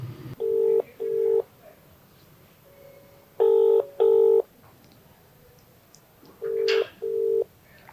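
Six phone keypad tones beep while a customer's number is dialed on a mobile phone, sounding in two-tone pairs with pauses between, clear and close, with no voices.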